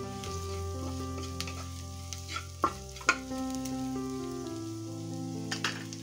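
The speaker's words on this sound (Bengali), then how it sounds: "কড়াইতে পেঁয়াজ আর কাঁচা লঙ্কা দিয়েছি," Onion and green chili fry in a wok, giving a steady low sizzle with a few sharp clinks and scrapes of stirring scattered through, fairly quiet and close, with no talking.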